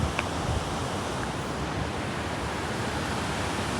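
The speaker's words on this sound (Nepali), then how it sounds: "हावा चलिरहेछ" Wind blowing steadily outdoors on a cold day beside a river, a constant broadband rush with no pauses and no voices.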